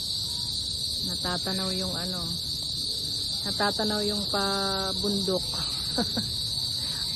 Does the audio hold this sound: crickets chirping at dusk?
yes